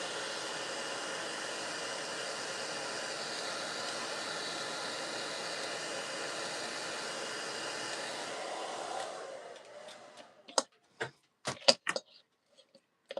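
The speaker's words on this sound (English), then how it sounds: "Just want to remove these with a dryer." A hair dryer blows steadily and fairly close for about nine seconds while softening stickers on a leather wine box, then cuts off, leaving a few sharp clicks and taps.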